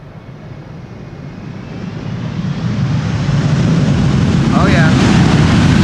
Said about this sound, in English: Buttered the landing, did a wheelie, spooled up the reversers, beautiful.